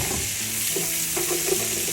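Seasonings are stirred around a hot pot for Southern collard greens, giving a dense, constant sizzle with soft spoon scrapes close by.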